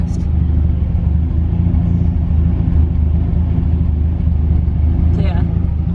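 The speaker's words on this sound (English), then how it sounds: "I've been running the car for maybe about 5 or 10 minutes now" A drift car engine idling while it warms up, a loud steady low rumble that holds constant throughout, with a person talking over it.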